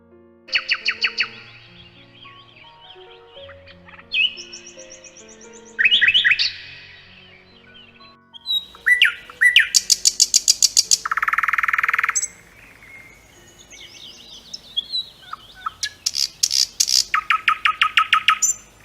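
A nightingale sings loud, varied phrases close by: rapid repeated chirps, whistled notes and buzzy trills separated by short pauses.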